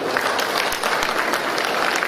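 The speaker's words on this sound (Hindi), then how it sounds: "उन सब दानदाताओं के लिए एक बार तालियां होनी चाहिए।" Dense applause from a large crowd at a national Buddhist convention in Pune, continuous clapping throughout at an even, fairly loud level.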